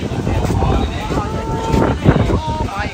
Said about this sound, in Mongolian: Тэгээ ингээ мотор юм ирчихсэн шүү дээ